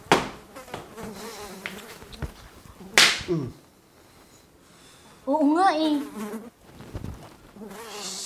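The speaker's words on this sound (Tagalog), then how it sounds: "Daming langaw ah." Many houseflies buzzing inside a closed-window home near dumped garbage, a thin persistent drone running beneath conversational talk, with a sharp snap and a few louder bursts in between.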